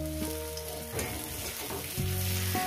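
Small fish sizzle and crackle in hot oil in a pan as they are stirred, a dense continuous fry noise with a few scraping strokes, close and fairly loud, with no voices.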